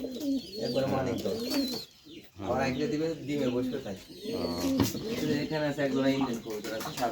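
Rajshahi Giribaz pigeons, two birds kept by a breeder, cooing in soft repeated throaty phrases close by, under near-constant conversation between people.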